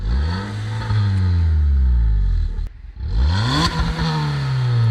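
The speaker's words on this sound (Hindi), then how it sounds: "अब मैं आपको इसका एग्जॉस्ट की भी आवाज़ सुनवा देता हूँ।" A Maruti Swift car engine, three years old, revs repeatedly through its exhaust, with loud rising and falling vroom sweeps close by, a short dip to near idle, then another strong rev.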